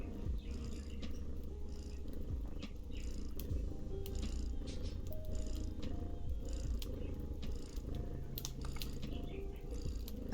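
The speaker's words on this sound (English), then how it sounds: "Let me turn up the kitty purr" A cat purrs continuously up close, a steady low rumbling vibration that holds evenly throughout with soft faint clicks over it.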